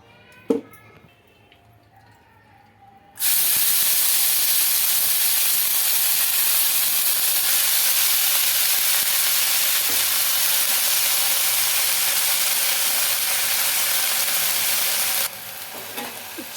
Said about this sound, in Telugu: ఇందులోకి కాస్త ఆయిల్ వేసుకొని చిగురు కూడా మగ్గించుకుందామండి